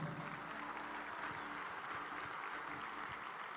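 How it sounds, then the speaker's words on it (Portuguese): A church congregation applauds at a Brazilian evangelical revival service, the clapping a steady, dense wash that fills the space evenly from start to finish with no voices on top. "Vamos aplaudir o Senhor mais forte?"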